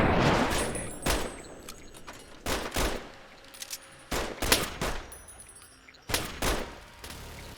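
Gunfire in Fallout 3 with the Capital Punishment mod list, several loud sharp bursts of shots in irregular clusters, each followed by a short decay, with quieter gaps between.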